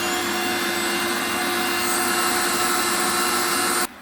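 A Vax Swift Turbo 1600 vacuum cleaner (VS-193S) runs loud and close with its vents taped over, a harsh steady whine and roar that cuts off abruptly near the end.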